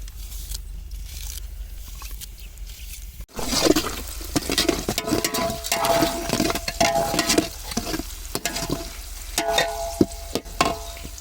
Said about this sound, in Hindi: लहसुन भुन चुका है, अभी प्याज डालने की बारी है।